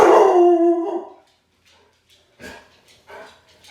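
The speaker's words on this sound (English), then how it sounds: "And that's my dog." A dog lets out a loud, close howl that fades away, followed by quieter whimpering howls after a pause.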